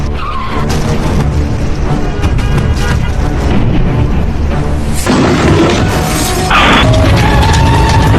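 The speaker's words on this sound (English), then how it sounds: "Two cars hit. A third joined in." Chain collision of several cars and a truck on a road, with tires skidding and loud crashing impacts over dense, continuous traffic and engine noise, growing heavier in the final seconds.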